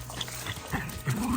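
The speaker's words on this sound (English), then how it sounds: "These are the dogs that live in the B&B." Small dogs living at a rural Irish B&B whimper and whine nearby, short high plaintive cries and a rising whine over outdoor background noise.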